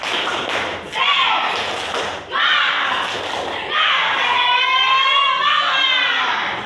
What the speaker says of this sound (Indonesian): Kasih tepuk semangat dulu.